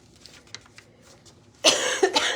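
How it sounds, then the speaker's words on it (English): A woman's cough, a single loud burst of harsh coughs close to the mic, following a quiet stretch with faint background sounds. "I'm so sorry about my cough"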